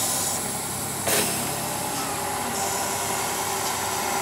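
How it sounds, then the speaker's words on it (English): Truck air parking brakes being released with the engine off, a sharp hiss of escaping air burst standing out over a steady background hum. "And I'm going to release my parking brakes."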